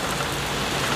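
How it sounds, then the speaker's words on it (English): Steady, dense rain falling close by, an even hiss of drops on surfaces with no voices. "It's beautifully raining."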